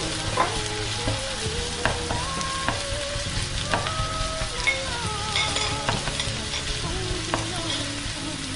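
Garlic fries in a pan with a steady crackling sizzle, stirring scrapes and clinks breaking through now and then, close and continuous throughout.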